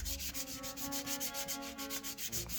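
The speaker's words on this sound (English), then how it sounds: "I started off with a 3200 grit sanding pad" A GI Joe action figure rubbed with a fine 3200 grit sanding pad, quick rhythmic back-and-forth scratching strokes, close up and repeated evenly with no talking.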